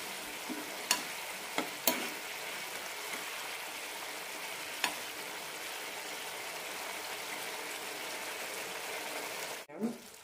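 Spicy, tangy bitter gourd curry sizzles steadily in a pan as it is stirred, with a continuous close hiss and a few light utensil clinks against the pan.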